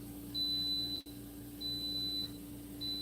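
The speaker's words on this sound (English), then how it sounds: "Let me wait for it to stop beeping." Three sustained high-pitched electronic beeps from an Instant Pot repeat at a steady interval over a low appliance hum, with no talking.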